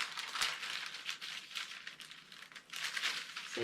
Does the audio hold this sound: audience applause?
no